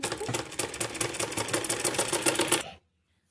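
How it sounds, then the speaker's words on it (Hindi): A sewing machine stitches the sleeve of a long double-layer kurti, a fast steady mechanical rattle running close for over two seconds before stopping abruptly into silence. "इसके ऊपर हम पूरे की सिलाई लगाएंगे बाजू।"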